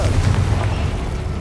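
The Confringo blasting spell from Hogwarts Legacy goes off as a loud, deep explosive boom that rumbles on without a break for its brief length.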